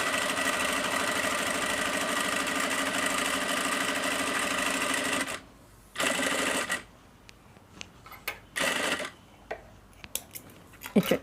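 A sewing machine stitches cloth with a steady, close mechanical whir for about five seconds, then stops. A few shorter bursts of stitching follow, separated by quiet pauses and light handling noises.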